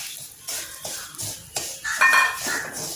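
Semolina stirred into hot refined oil in a pan: a close, irregular series of scraping and clinking strokes from a metal spoon against the pan, with a faint sizzle under them.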